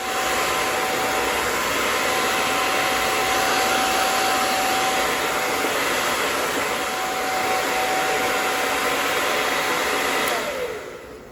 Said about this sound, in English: I'm going to start off with a standard blow dryer.